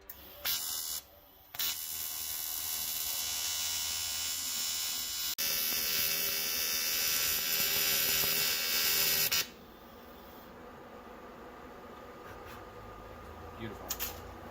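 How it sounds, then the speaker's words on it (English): A welding machine on a budget build project, giving a loud, steady electric buzz and hiss that runs for several seconds and then stops, followed by quieter workshop background. "So now I'm just working on the artistic part of welding."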